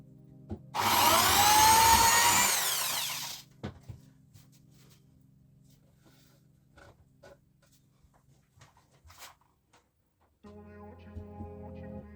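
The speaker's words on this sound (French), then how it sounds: "Je passe un bon coup d'aspirateur là-dedans après." A vacuum cleaner roars loudly for a few seconds, then cuts off, leaving quiet clicks and knocks followed by a low hum.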